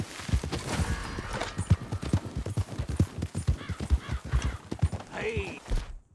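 Steady rhythmic clip-clop of a ridden horse's hooves in Red Dead Redemption 2, close and even-paced, with a brief whinny near the end and a voice speaking over it.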